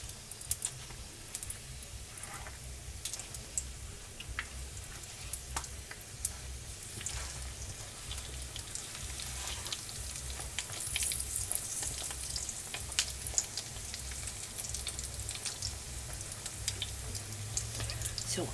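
Homemade crispy corn-tortilla tacos fry in hot oil, giving a soft, continuous sizzle and crackle at low level throughout, with no talking.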